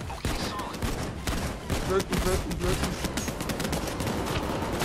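Rapid gunfire in the Payday 2 video game, a dense continuous burst of shots from several weapons that fills the whole stretch, loud and close, with a voice speaking briefly over it.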